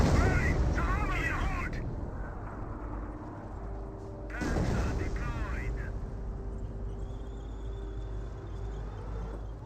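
Artillery barrage from M2 guns in Company of Heroes, aimed at a StuG, heard as heavy booming blasts with rumbling tails, two big bursts several seconds apart over continuous battle noise, with a commentator talking throughout.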